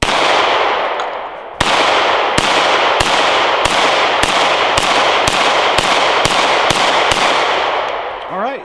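A smaller hammer-fired pistol fires roughly a dozen loud, sharp gunshots in a steady, evenly spaced string, each crack ringing out over a constant background roar, with a brief voice at the very end.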